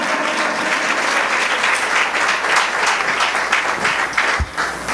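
Congregation at a Yom Teruah shofar celebration breaks into steady, dense applause, loud and sustained for the whole stretch, with only faint crowd murmur beneath.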